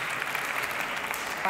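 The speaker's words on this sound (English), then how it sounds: "Big applause for" An audience applauds during a talk, a dense, steady wash of clapping from many hands that stays even throughout.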